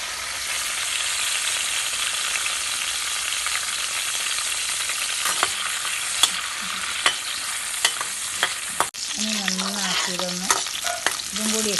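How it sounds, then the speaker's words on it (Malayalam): Garlic, ginger and shallots fry in hot oil for a beef gravy, a loud steady sizzle punctuated by regular spoon taps against the pan, with bird calls chirping over it near the end. "വെളുത്തുള്ളി ഇഞ്ചി വെളുത്തുള്ളി ചെറിയുള്ളി എല്ലാം കൂടി ഇതിലേക്കൊന്ന് ഇട്ട് കൊടുത്തൊന്ന് മൂപ്പിച്ചെടുക്കാം"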